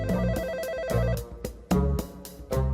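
Telephone rings in a repeating electronic pattern, short bursts of bright tonal chimes separated by brief gaps, close and fairly clear with no talking.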